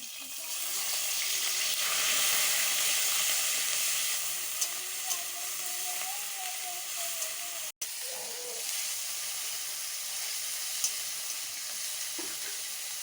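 Onion paste sizzles in mustard oil with a strong, even hiss that eases off slightly over time. A few small clicks and one sharp break cut into the steady frying.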